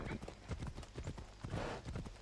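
A rapid, rhythmic series of hoof clops, like a horse trotting, fairly quiet and alone with no talking, from a horse in the video game Assassin's Creed Odyssey.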